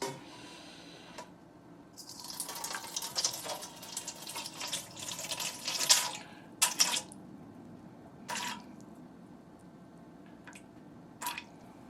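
Water runs and splashes into a bowl set on a kitchen scale while sourdough pizza dough is being measured, a soft trickling pour with scattered drips and clinks, close and fairly quiet with no voices.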